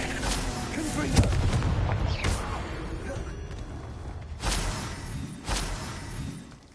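Confringo blasting spells explode in Hogwarts Legacy, heavy booms and crackling blasts bursting one after another with rolling rumble between them, loud and close.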